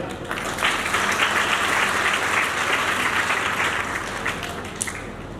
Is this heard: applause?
yes